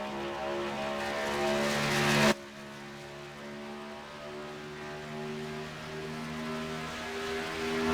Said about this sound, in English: the cars, they come down into turn number 1 for the first time, and we're going to crank it up